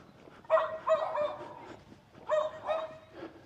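A dog barks twice in a suburban street in Innisfail, Queensland, each a short cluster of yappy barks at moderate distance against quiet outdoor ambience.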